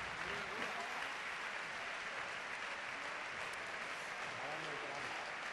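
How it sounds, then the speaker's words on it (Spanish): Stadium crowd applauding the football teams at Estadio Nuevo Colombino in Huelva before an RC Huelva versus Algeciras CF match, a steady, distant wash of clapping that holds evenly throughout, with faint voices mixed in. "se escucha el aplauso unánime de los que se han acercado hasta el estadio"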